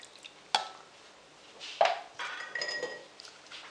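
Sugar and cold milk are stirred together in a pot, with a few light clinks and scrapes of a utensil against the metal, sparse and close, no voices.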